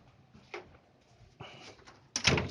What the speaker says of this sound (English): So I'm closing the door now.